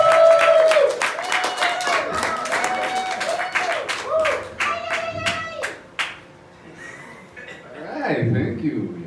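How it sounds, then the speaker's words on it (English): A comedy show audience claps for a comedian taking the stage, a burst of scattered, fairly close handclaps with a few chuckles, while a voice talks over it and later the clapping thins out. "please, ladies and gentlemen, give a round of applause for our first comedian,"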